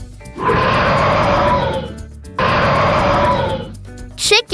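A lion roars twice in long, loud, rough bursts with a short gap between them, followed by a brief high squeal.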